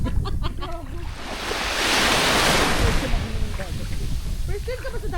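Sea waves break and wash onto a beach in the Visayas, a loud surging rush that swells to a peak midway and then recedes, with wind buffeting the microphone and people talking over it.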